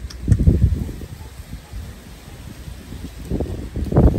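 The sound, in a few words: strong wind after a typhoon rustling leaves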